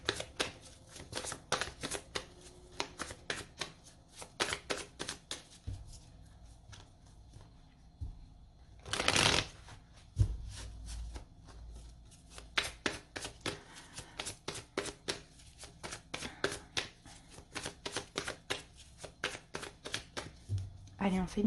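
Tarot cards are shuffled and laid out in a quick series of crisp flicks and snaps, a longer riffle in the middle, while someone speaks French throughout.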